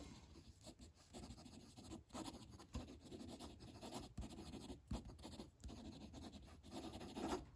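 A Stabilo Grow fountain pen scratches quickly across paper in a steady run of close, soft strokes, with brief pauses between words and no talking.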